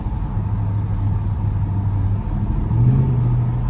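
A 2023 Ford F-150 with a 5.0 V8 and a JLT cold-air intake accelerates nearby, producing a continuous low engine rumble that swells toward the end.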